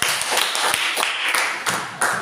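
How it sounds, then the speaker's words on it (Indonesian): A short burst of scattered hand clapping from a group of children, irregular and uneven, with no talking over it. "Oke, tepuk tangan."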